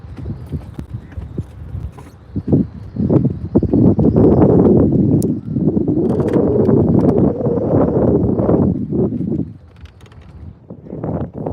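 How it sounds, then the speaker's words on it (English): Wind gusting outdoors on open water during a bass fishing outing, a loud rough roar buffeting the microphone in surges that build, hold for several seconds and then ease. "I know the wind is kicking up out here."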